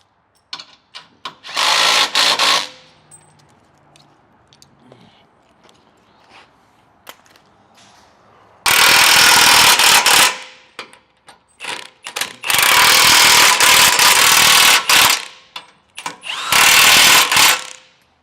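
A power tool tightens the bolts of a rear bumper on a Lexus GX 460 or GX 470 in loud, rattling bursts a second or more long, separated by quiet pauses and small clicks.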